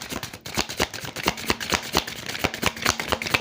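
Tarot cards are shuffled in a close, rapid riffle, with a dense run of crisp flicking slaps in quick rhythmic succession that continues without a break.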